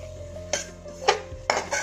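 Condensed milk and coconut mixture stirred in a pan for coconut burfi, four distinct metallic scrapes and knocks of a spoon against the pan over a low, steady hum, no speech.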